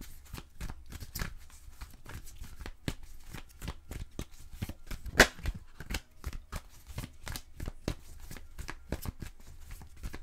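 Tarot cards are shuffled by hand in a steady, close series of crisp riffling flicks and soft taps, quiet and continuous with no talking.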